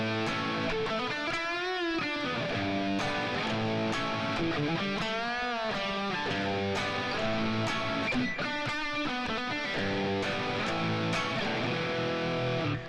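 Electric guitar plays the fill-laden second half of a song's verse riff, a steady, loud stream of chords and bending lead fills running without a break.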